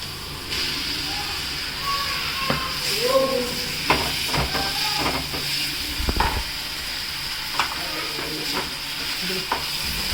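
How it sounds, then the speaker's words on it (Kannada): Chopped onion sizzles and hisses steadily in a hot pan for a North Karnataka home meal, with repeated scraping and clinking of a spoon stirring it close by, and a person speaking over the cooking. "ಉಳ್ಳಾಗಡ್ಡೆ ಹಾಕ್ತೀನಿ, ಸ್ವಲ್ಪ ತಿರುಗಾಡ್ಬಿಡಮು."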